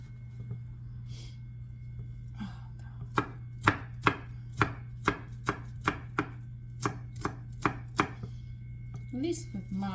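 A knife chops an onion on a cutting board for sausage-making, with a steady run of about a dozen sharp, close knocks spaced roughly half a second apart over a constant low hum, with no talking.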